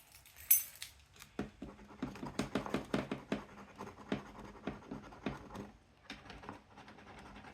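Keys scratching off a scratch card, a quiet close-up series of short, sharp scraping strokes in irregular bursts with brief pauses between them.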